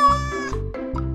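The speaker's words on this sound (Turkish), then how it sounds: "kedi," A cat meows several times in quick succession, short tonal calls close by with brief pauses between them.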